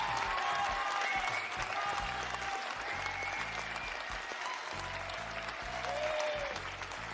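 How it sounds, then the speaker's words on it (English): A crowd gives a loud, sustained round of applause, with dense clapping that holds steady from start to finish and no voices on top. "Give a round of applause to your boy."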